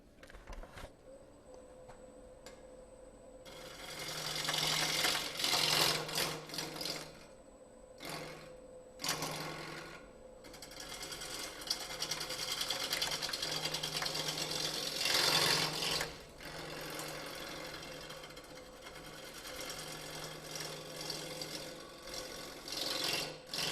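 A woodturning tool cutting a spinning piece of wood on a lathe, giving a steady rasping, scraping hiss that swells and eases as the tool moves, with a low motor hum underneath and no talking.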